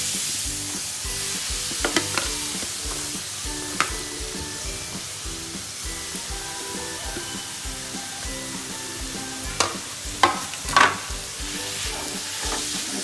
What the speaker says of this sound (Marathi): आणि ते थोडस गरम झालं का आपण त्याच्यामध्ये ते गाजर टाकून घेणार आहोत